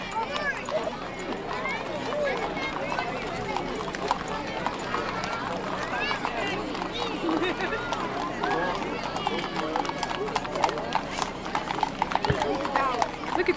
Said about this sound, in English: And a big white walking horse coming up here.